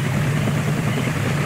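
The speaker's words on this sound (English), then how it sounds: "Enemy helicopters incoming." An enemy helicopter in Call of Duty: Black Ops gives steady, droning rotor-and-engine noise that holds constant throughout, a continuous mechanical hum with a low pulsing undertone, loud and close.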